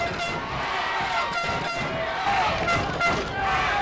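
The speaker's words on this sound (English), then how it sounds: "And now North Haven's crowd is starting to get a little loud." A home crowd at a Class MM high school football semifinal between North Haven and Wilton grows loud, with sustained roaring, cheering and horn-like blasts in a dense, continuous wash of stadium noise.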